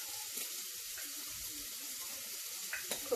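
Chopped onion drops into hot rendered fat in a single pot and fries with a constant close sizzle and hiss, a few faint clicks and stirring sounds toward the end, no voices.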